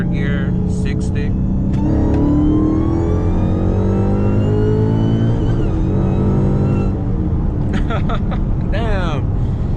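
A tuned Dodge SRT Hellcat Charger accelerates hard in third gear, its engine note climbing steadily and loud from inside the cabin, with people talking over the roar.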